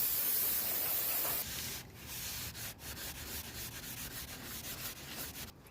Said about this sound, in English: And then I'm going to get all this grease off of the brake rotor here.